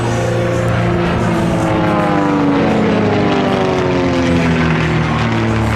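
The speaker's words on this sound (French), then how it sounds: "Ce sont des avions écoles modernes, c'est des avions qui ont été construits à Tarbes" TB30 propeller training aircraft, built in Tarbes, flying at the Biscarrosse air show, a loud continuous propeller drone with rising and falling pitch as the planes pass, no voices.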